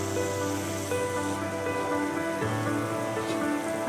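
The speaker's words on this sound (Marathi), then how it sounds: "पाण्याला उकळी आलेली आहे." Sugar syrup of three cups water and one cup sugar boils in a kadhai for rasmalai: a steady, dense bubbling hiss with no pauses throughout.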